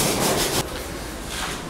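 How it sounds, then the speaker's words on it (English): Sanding the top edges of a bedroom wall before skim coating on a house build in the Philippines: a loud, close abrasive rubbing stroke that stops abruptly, followed by a quieter, softer scrape. "back on sanding again. And once again, it's those top edges prior to more skim coating"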